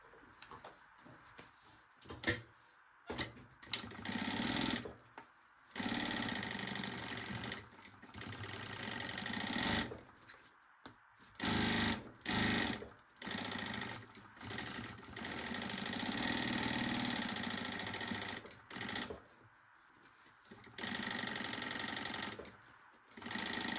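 A sewing machine stitches a baby backpack in bursts of fast whirring, pausing and restarting several times with short silences between runs, close and steady.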